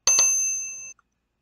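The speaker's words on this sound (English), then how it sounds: "click that notification bell" A bright notification-style bell effect rings out, two quick dings followed by a sustained metallic tone that fades over about a second, then a tiny click; no voices.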